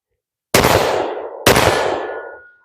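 Two loud, sharp shots from a Smith & Wesson M&P 5.7 handgun, about a second apart, each with a ringing echo that trails off, and no voices.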